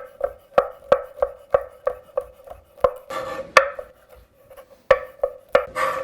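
A knife chopping roasted chestnuts on a cutting board for Thanksgiving stuffing, a steady run of sharp close knocks about three per second, then a looser scraping patch and a few final chops, with no talk.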